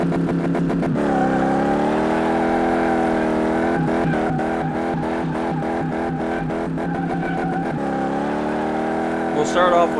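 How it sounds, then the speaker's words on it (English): Car engine in Car Mechanic Simulator 2018 revving hard while doing donuts, loud and continuous with rapid pulsing rev changes and gear shifts throughout, heard alone without talk. "we'll start off with doing a couple donuts"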